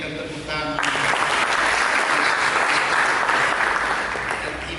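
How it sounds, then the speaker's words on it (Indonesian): A church congregation breaks into loud, sustained clapping that swells in after a brief moment of music and holds steady throughout. "Sekali lagi berikan tepuk tangan."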